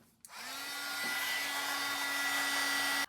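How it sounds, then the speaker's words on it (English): A craft heat tool drying paint on a card project switches on with a click and blows a steady, loud whirring hiss for about three seconds before cutting off. "Do I let it air dry or heat tool it?"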